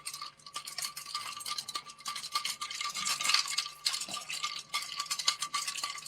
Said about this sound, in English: We're going to add some cubed ice. Just like that. Ta-da! And then we're going to stir this.